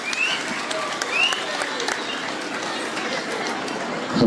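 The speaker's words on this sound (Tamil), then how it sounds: "ஒரு பெரிய கரகோஷம் கொடுங்க" Applause from a live audience at a Tamil comedy debate event, a steady broad crackle of clapping running throughout, swelling slightly at moments with some talk mixed in.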